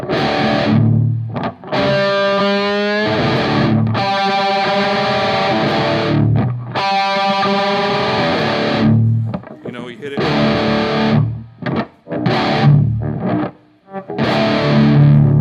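Heavily distorted electric guitar rings out in sustained chords, with short palm-muted strokes and gaps between them, loud and close.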